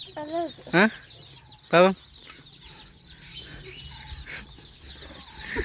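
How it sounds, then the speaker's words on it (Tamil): Young chicken chicks cheep in short, high, sharp bursts close by, with two strong calls standing out, while a person talks softly over them in a quiet rural setting. "எப்படி இருக்கு கோழி குஞ்சு"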